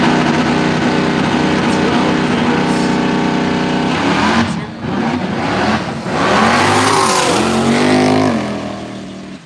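Drag race cars, a Nova and an 01 Turbo LS, launch on a no-prep hard-tire strip in the woods, engines droning at a steady pitch and then rising in a loud, close, revving roar.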